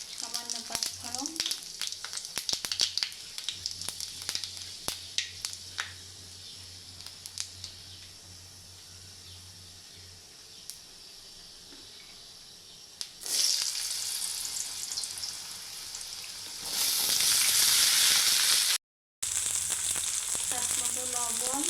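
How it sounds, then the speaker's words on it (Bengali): Bay leaves and panch phoron spices dropped into hot oil, a light crackle and patter at first, then a sudden loud hissing sizzle that surges and briefly cuts out before continuing. "তেলটা গরম হয়ে গেছে, তেজপাতা দিয়ে দিলাম, সামান্য পাঁচফোড়ন"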